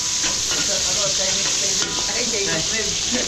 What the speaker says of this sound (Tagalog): So igigisa na natin sa bawang sibuyas.